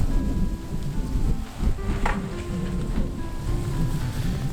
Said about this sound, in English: of course the wind just picked up